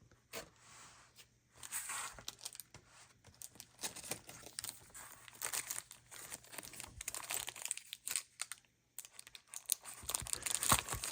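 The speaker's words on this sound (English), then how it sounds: "We're gonna open some of these cards up and see what we get." 1990 Score baseball card packs being torn open: close crinkling and ripping of wax wrappers in irregular bursts with brief pauses, fairly quiet and alone without talk.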